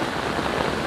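Rain pours steadily into an open biopore hole in the ground, a dense, even hiss of falling water that holds constant throughout with no voices.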